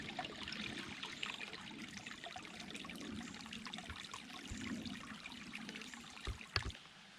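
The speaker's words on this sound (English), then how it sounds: "Babbling brook" A small brook trickles and babbles over rocks in Uwharrie National Forest along the Dutchman's Creek Trail, a faint, continuous water burble with a few soft knocks near the end.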